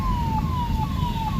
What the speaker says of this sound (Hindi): मेरठ के अंदर इतना ट्रैफिक और ये एम्बुलेंस की हुई और ये तो बंदी ना होती है 1 मिनट को